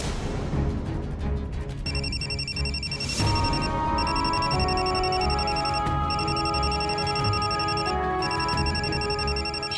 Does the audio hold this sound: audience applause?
no